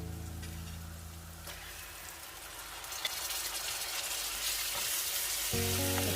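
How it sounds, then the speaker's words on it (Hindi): Tomatoes fry with spices in a pan over a high flame for a white lobia masala. A steady, close hiss crackles and builds louder toward the end, with no voices. "टमाटर यहाँ पे तकरीबन कुछ सेकंड तक मैंने यहाँ पे तेज आंच पे ही भूने हैं"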